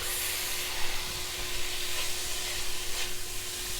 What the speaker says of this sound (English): Give your barley a good mix.